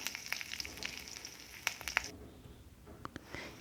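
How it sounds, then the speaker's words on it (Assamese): Green chillies sizzle steadily in a frying pan while being stirred, with scattered sharp scraping clicks from the utensil over a constant close frying hiss, no voices. "এতিয়া গোটেইখিনি এবাৰ ভালদৰে লৰাই দিছোঁ"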